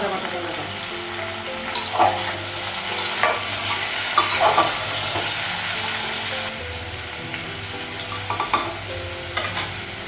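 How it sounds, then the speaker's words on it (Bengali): Papaya and potato frying in a pan for a Bengali curry, with a loud continuous sizzle and intermittent scraping stirs and clacks throughout; no talking. "পেঁপে আর আলুটা একটু ভেজে নিয়ে তারপরে"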